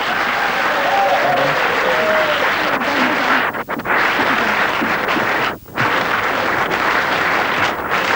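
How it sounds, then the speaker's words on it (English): A game show studio audience claps in a loud, dense, sustained burst, dipping briefly twice as the applause fades and picks up again. "Give them a round of applause."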